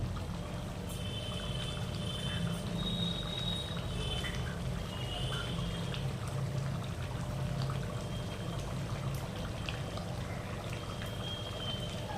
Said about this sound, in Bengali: এবার আমরা এর মধ্যে একটু সামান্য পরিমাণ ঘি অ্যাড করে দেবো